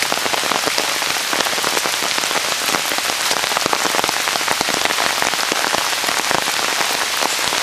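Heavy rain from the remnants of Tropical Storm Lee pours down during flooding in upstate New York, a dense, steady hiss and patter of drops hammering surfaces nearby, with no voices.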